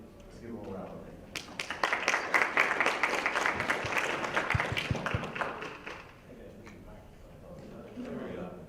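An audience at a metro planning commission event applauds as the commissioner comes forward, a dense burst of clapping that swells and then fades after a few seconds, with some talk around it.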